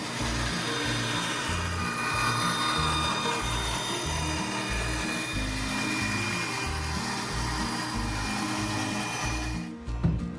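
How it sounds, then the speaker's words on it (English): A bandsaw in a workshop cuts wooden cabinet trim pieces with a continuous loud whine and hum, then spins down near the end. "it's back to the workshop and to the bandsaw"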